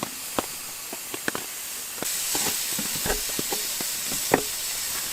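Ground beef cooking dry without butter or oil in a non-stick pan on a camp stove inside a hot tent, a steady soft hiss with scattered pops and ticks, fairly quiet and continuous throughout.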